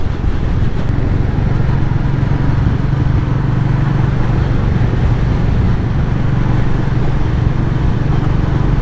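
A Royal Enfield Meteor 350 single-cylinder motorcycle cruising steadily on the road, its low engine drone and wind rush continuous and loud throughout, with no speech.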